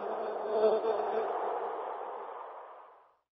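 Honeybees buzzing in one close, steady drone that holds for about three seconds and then fades out smoothly.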